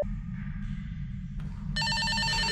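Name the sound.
telephone ringing in the Backrooms video game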